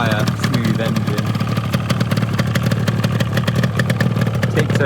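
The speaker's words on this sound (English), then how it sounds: "You just need to put the weight of your leg on it and it basically fires and runs up." A restored 1983 Yamaha RD250LC 4L1 two-stroke motorcycle running close by after starting, a rapid, steady, busy engine note with mechanical clatter that holds evenly throughout.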